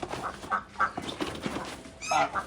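Guinea fowl on a farm give sharp, repeated harsh calls in quick irregular bursts, close and fairly loud, with one louder cry near the end.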